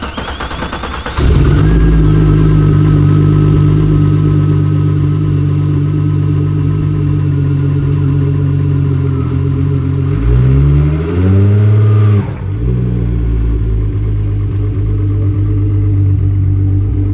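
A VW Golf engine cranks and catches, settles into a loud steady idle, then revs up and pulls away as the pitch climbs and shifts, all close and without talking.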